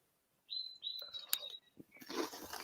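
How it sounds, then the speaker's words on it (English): Birds chirping outdoors, a few clear high whistled calls in close succession, then a brief rustle and a burst of brighter chatter, fairly faint against a quiet background. "Can you hear all these birds on my end?"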